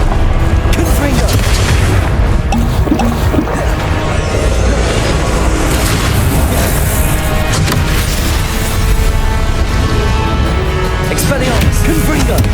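Repeated Confringo fire spell blasts in Hogwarts Legacy, loud booming explosions and crackling bursts in a dense, continuous battle, with spell incantations shouted over the noise.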